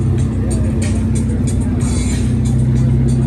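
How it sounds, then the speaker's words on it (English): Porsche pulling up at a downtown Los Angeles car meet, a steady low engine hum close by with crowd chatter and street noise from the gathered cars throughout. "Porsche just pulled up."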